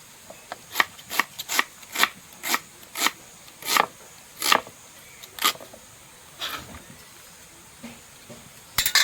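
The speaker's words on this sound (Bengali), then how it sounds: "পেঁয়াজটা একদম ভালো করে কুচি করে নেব" An onion being finely chopped with a knife on a board, about a dozen crisp evenly spaced cuts that slow and space out toward the end, close and clear with no talking.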